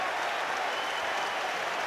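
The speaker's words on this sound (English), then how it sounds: "listen to the crowd. They're back. They're celebrating a home goal." Football stadium crowd at a Coventry home match roaring and applauding a home goal, a dense, loud, continuous wash of cheering with no break.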